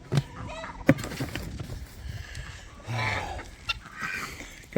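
Chickens cluck and squawk in a busy flock at morning feeding on a farm with goats, close and lively with uneven bursts of calls and a few sharp knocks.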